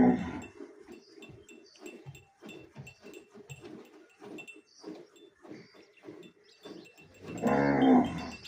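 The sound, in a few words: cow mooing, Cholistani Friesian cross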